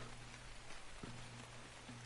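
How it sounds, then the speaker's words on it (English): Steady rain hiss in the video game Ark, a dense even patter of drops with a faint low hum underneath, no talking. "Oh god, it's raining."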